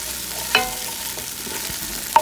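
Minced garlic and finely grated ginger sizzling in oil in a pan as they are stirred, a soft steady fry with a couple of light utensil clicks, close and quiet, no voices.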